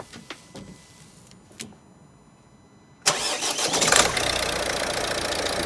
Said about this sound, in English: Right, first start up after we're putting the clutch in.